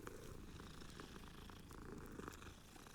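A cat purrs in the video game Hogwarts Legacy, a soft, continuous rumbling purr that stays steady and fairly quiet for the whole moment, with no talking over it.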